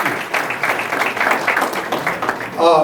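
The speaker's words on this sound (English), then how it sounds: "How about a round of applause for the excellent service staff and the Chateau people?" A room of guests at a Chamber of Commerce Black History luncheon applauds the service staff, steady clapping throughout with voices mixed in.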